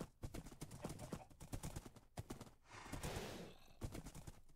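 Horse hooves galloping in Minecraft, a fast rapid clip-clop rhythm of repeated hoof beats, loud and close throughout with a brief rushing burst in the middle.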